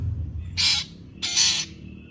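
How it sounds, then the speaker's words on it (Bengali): A bird gives two harsh, squawking calls about half a second apart, fairly close and clear against a quiet background. "রোজ সকালে দেখছি এই পাখিটা ডাকতে আসছে।"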